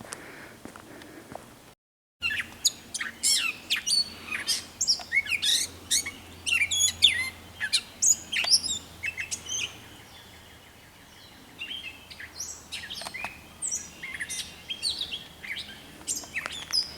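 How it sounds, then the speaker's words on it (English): A bird chirps in the woods at Glimmerglass State Park in Cooperstown, New York. Quick, repeated tweets and calls come moderately close over quiet background, with a short lull partway through. "the bird I was hearing a lot last night"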